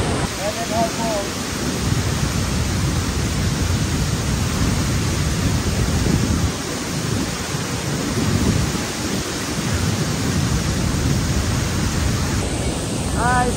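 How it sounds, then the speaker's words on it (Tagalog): A steady, loud broadband roar of water from Mendenhall Glacier Falls (Nugget Falls) fills the whole stretch near at hand, with a few brief chirps poking through at the start and end. "Mendenhall Falls."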